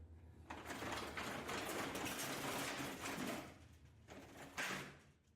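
A manual spring-loaded rolling shutter with key lock, a 77 mm RUF garage unit, rolls down for several seconds as a loud continuous rattling rumble. It stops, then a shorter clattering burst follows near the end.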